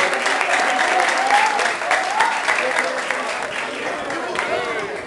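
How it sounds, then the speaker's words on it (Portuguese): Applause from an audience celebrating the first anniversary of a dance blog, a steady crowd clapping that stays loud and dense throughout, with some voices mixed in. "Uma salva de palmas aí pro, pro Blog aí, que tá fazendo sucesso aí."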